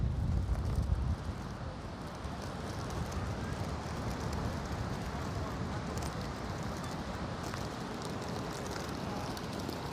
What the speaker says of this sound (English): Look how windy it is here right along the shore. It is really windy right now.